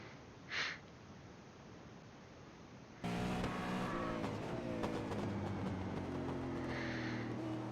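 A V8 Supercar at Brands Hatch in a sim racing game roars at near-full throttle, the engine note loud and sustained with rising harmonics after a brief quiet lead-in.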